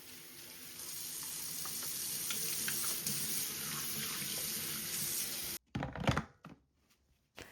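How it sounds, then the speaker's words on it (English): Car cleaning accessories are rinsed under a running tap in a sink, a steady hissing water stream for several seconds that cuts off, followed by a few wet clatters and drips. "I do like to give them a really thorough rinse and dry before tidying them away"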